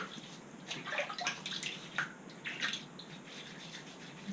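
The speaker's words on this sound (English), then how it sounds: "Get a little bit of water." Water splashing and trickling from hands during a man's facial, soft close splashes and drips with a faint running-water wash underneath, no speech.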